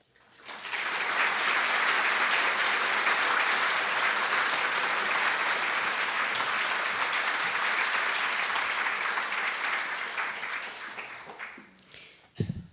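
Sustained audience applause at a lecture welcoming art historian Carol Ockman, a dense, even wash of many hands clapping for about ten seconds before tapering off into a few scattered claps.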